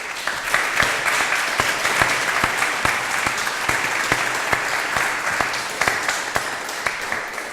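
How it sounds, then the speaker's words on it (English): A conference audience at an architecture day event applauds a panel, steady dense clapping with sharp individual claps standing out, sustained throughout at moderate loudness. "Maybe we applause once more."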